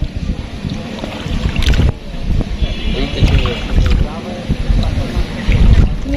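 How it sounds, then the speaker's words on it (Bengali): A river boat turns on the water at Sarighat, with a steady low rumble and churning water under gusts of wind noise against the microphone. "এখন আমাদের নৌকা ঘোরাচ্ছে"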